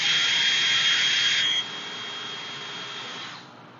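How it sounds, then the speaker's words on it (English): A steady high-pitched whine of a power drill with a 1/4 inch bit boring through ATV plastic, loud at first, then dropping to a lower, quieter hum before fading. "drill your first hole"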